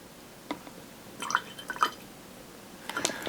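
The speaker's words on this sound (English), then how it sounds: "we're gonna add a little water to this and see what that does to it" Water drips into a glass of Jack Daniel's high-proof rye whiskey, a few small, soft splashes and plinks close by in a quiet room.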